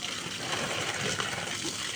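Water gushes and splashes while plants are watered in a rooftop garden, a soft continuous pour at close range with no voices.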